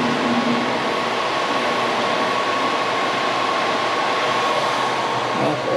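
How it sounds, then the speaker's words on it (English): A cutting torch slices through steel parts for a John Deere 850J, a steady loud hiss and roar of gas flame holding constant throughout, with a faint tonal hum beneath. "Let's cycle the torch over."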